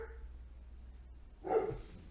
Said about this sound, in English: He's probably like barking at a cat or something.